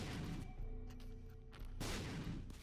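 Bombs explode in the video game The Binding of Isaac Repentance, heard as a couple of muffled booms over the game's background sound, fairly quiet, with no talk over them.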